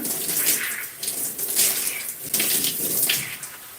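Running water rinsing shampoo out of natural gray hair, a close, continuous splashing wash that surges and dips without pause.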